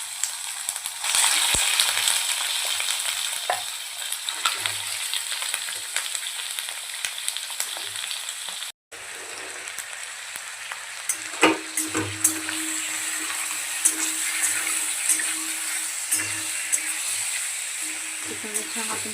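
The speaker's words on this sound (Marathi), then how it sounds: "तेल छान गरम झाले की आपण चिकन ॲड करणार आहोत." Chicken pieces frying in hot oil in a kadai for dhaba-style chicken curry make a continuous crackling sizzle with scattered pops. It drops out briefly midway, then returns with a lower, denser bubbling.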